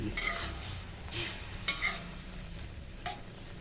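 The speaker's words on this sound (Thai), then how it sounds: "ใส่ไข่ลงไปสองฟองแล้วก็ตีไข่ให้แตกแตกแตกแตก" Eggs beaten and stirred into zucchini frying in a pan, a faint sizzle with several soft scraping stirs and a few brief clinks at close range, no talk.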